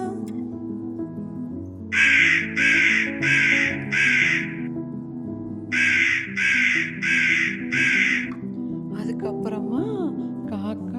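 A crow caws loudly in two evenly spaced bursts of four over soft background music, and a voice speaks briefly at the end.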